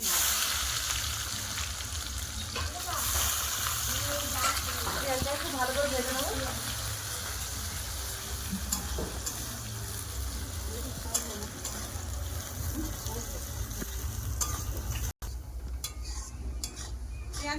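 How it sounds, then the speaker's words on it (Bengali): Whole garam masala spices and dried chillies fry in hot oil, a steady close sizzle with occasional utensil clinks, while a person talks intermittently over it. "তেল গরম হয়ে গেছে দিয়ে দেবো গোটা গরম মশলা"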